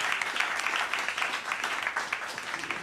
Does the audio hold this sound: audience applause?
yes